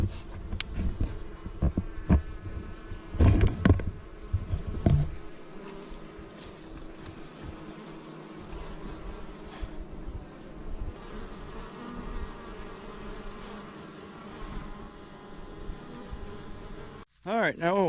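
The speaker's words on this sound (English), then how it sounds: "today we're going to go check on my bees" Bees buzz around beehives in a continuous droning hum, individual insects passing close by, with some thumps and a person talking over it.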